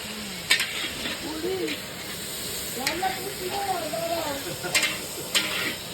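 Leafy greens sautéing in a pan at home, a soft continuous sizzle with a few sharp stirring clicks, while voices talk faintly over it in the background.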